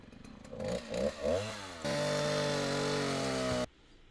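A synthesized saw sound made with the Morph 2.0 VST plugin: a few rising, buzzing revving pulses, then a sustained loud, harsh, chainsaw-like drone that cuts off abruptly, with no talking.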